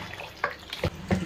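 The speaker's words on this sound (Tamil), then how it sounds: "இப்போது தண்ணி, இந்த மட்டன் மூழ்கிற அளவுக்கு மட்டும் தண்ணி விட்டால் போதும்" Water is poured into a pot of mutton during cooking, heard as three short, fairly quiet splashing bursts at a steady pace.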